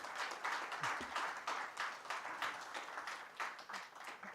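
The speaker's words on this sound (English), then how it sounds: "A big applause for the minister," Applause for a minister at an infrastructure summit, fairly faint and even, with individual claps pulsing through a soft, continuous patter from a seated audience.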